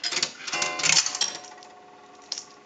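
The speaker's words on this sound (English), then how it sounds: "a quarter will gong one time" A quarter rattles and clicks down through the coin validator of an Automatic Electric three-slot payphone, a quick metallic clatter close by that fades, followed by a short struck tone.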